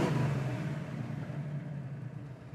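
A 1971 Chevrolet Camaro Z28 with a 350 V8 idles, its low, steady engine rumble close and continuous, easing slightly in loudness toward the end, with no talking.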